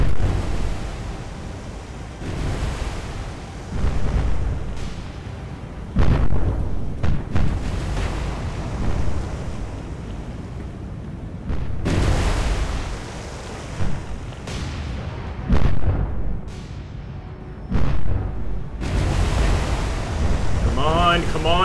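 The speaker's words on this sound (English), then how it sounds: "that's the enemy ship firing at us" Enemy warship guns in the naval combat game War on the Sea fire again and again, each a heavy boom with a long rumbling tail. The bursts are loud and spaced irregularly, with someone talking between some of them.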